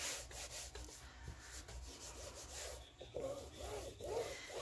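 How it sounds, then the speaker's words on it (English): A fabric cover is rubbed by hand onto the spine of a ring binder journal, producing quiet, close, rhythmic rubbing strokes that repeat steadily. "I'm just going to pull my cover on over and rub it in to that spine"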